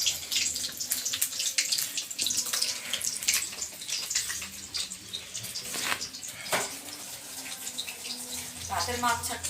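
Starchy water from freshly cooked rice pours and splashes out of a cooking pot as it is strained, a steady running gush with dripping, close by, amid background noise from a nearby fair's loudspeakers.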